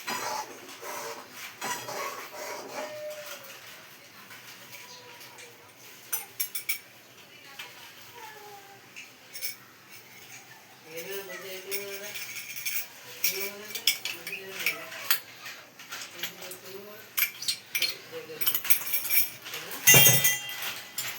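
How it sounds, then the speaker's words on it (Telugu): A spoon scrapes and clinks against a pan while ivy gourd masala curry is stirred, with irregular metallic taps and scrapes at close range and a few brief tonal sounds in between. "మంచిగా కలుపుకోవాలి"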